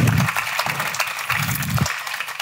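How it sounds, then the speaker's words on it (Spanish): Audience applause at a university cultural forum debate, a fairly loud wash of many clapping hands with low murmurs of speech-like sound pulsing underneath. "vamos a darles un aplauso a Ana Pardo de Vera, David Jiménez y Jesús Cintora"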